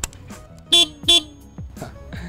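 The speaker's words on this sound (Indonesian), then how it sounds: "Klaksonnya memang kelihatan cupu banget." Two short, thin beeps in quick succession from a BMW G310GS motorcycle horn, fairly close, with faint background noise and small clicks around them.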